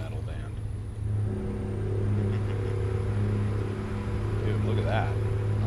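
A vehicle engine revs in American Truck Simulator, a steady droning hum with strong low tones that swells slightly midway, with talk over it.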